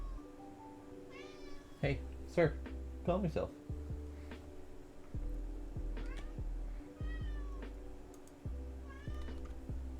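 A pet cat meows several times at close range, short rising calls scattered over a low steady hum, with someone speaking calmly to it in between.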